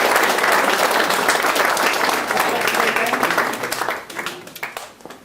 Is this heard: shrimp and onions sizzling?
no